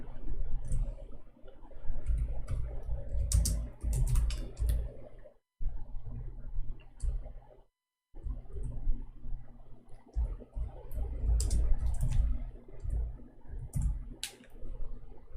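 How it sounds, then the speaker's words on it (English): Keys clack on an unfamiliar computer keyboard with a different key layout, in uneven bursts of close, crisp taps broken by two short pauses. "I'm just trying to learn how to use this keyboard because it has different keys location."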